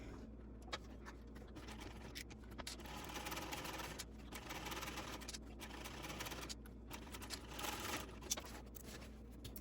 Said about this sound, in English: now I'm going to baste this on top of the panel